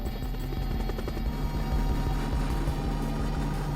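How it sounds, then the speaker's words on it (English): A helicopter gunship flies in pursuit of a convoy, its rotor thumping in a steady, fairly distant drone that runs unbroken throughout. "At least one helicopter gunship is in pursuit of the convoy."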